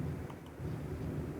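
Rain and rumbling thunder in a Minecraft world, a dense low continuous roar that fills the short stretch without any voices.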